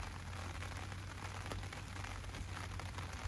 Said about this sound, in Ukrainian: в нас йде дощ